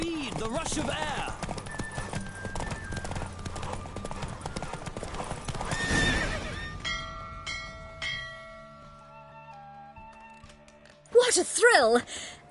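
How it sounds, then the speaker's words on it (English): A galloping horse in The Witcher 3 game, rapid hooves drumming under game music and effects, with a shrill neigh bursting out near the end. "Don't spare the horse!"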